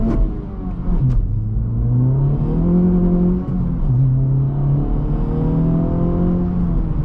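A 2024 Acura Integra Type S with 320 horsepower revs hard and accelerates, its loud engine note climbing and dipping through gear changes close by for about seven seconds with no talking.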